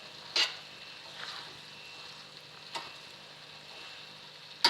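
Black chickpeas (kale chane) fry in masala in a pan, with a soft, steady sizzle broken by a few sharp stirring scrapes. No one speaks.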